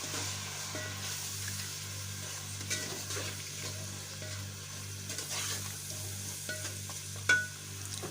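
Salt, red chili powder and turmeric get stirred into a frying pan while making sarson ka saag, a steady close sizzle with soft scraping of a spoon, one sharper clink near the end.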